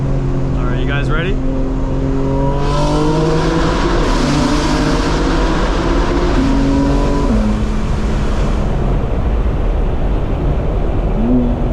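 A 2024 BMW M4 engine accelerates while driving, a loud, near engine note climbing through several rising sweeps with brief shift breaks, a voice speaking over part of it.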